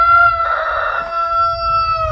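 A rooster crows once, loud and close, a long sustained harmonic call that rises and then trails off over about two seconds, with low farmyard rumble beneath and no talking.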